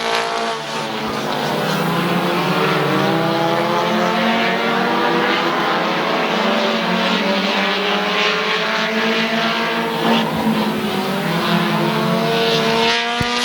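Race cars on the final lap at Midvale Speedway roar past in a loud, continuous engine wail that swells and shifts pitch as the pack circles the track.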